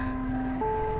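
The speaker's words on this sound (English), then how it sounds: "This is the ice cream truck." In a video game set in a town of killer cars, an ice cream truck plays its jingle as a steady electronic melody of sustained tones that step to a new pitch midway.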